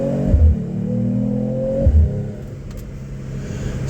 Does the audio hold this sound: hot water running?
no